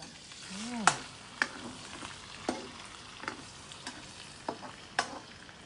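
Pork belly stir-fries as its fat renders out, a spatula scraping and clanking against the pan about ten times in an uneven rhythm over a continuous close sizzle.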